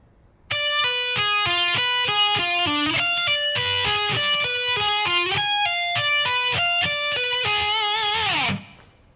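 Distorted electric guitar plays an arpeggio lick at slow tempo, a continuous stream of clear, evenly spaced picked notes sweeping up and down for about eight seconds, with no voice.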